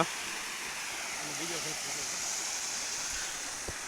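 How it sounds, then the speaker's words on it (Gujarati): Steady rush of a waterfall fills the clip, with a brief faint voice murmuring underneath and a soft knock near the end. "પાણીનો ધોધ પડે છે."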